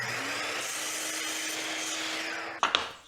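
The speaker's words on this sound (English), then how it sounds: "So the first thing I'm going to do is cut 2 3/4 inch wide strips." Wood scraps being cut into strips with a power saw: a steady, loud broadband whine runs for about two and a half seconds, then two sharp cutting bursts as the blade finishes the pass and the sound tails off.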